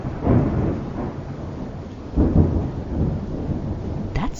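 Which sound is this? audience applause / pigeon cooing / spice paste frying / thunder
thunder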